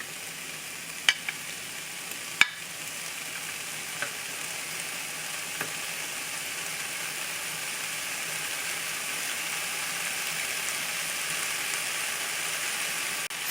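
Potatoes fry in chorizo oil in a pan with a steady, loud sizzle that holds throughout. A few sharp clinks of a utensil come near the start, and no one speaks.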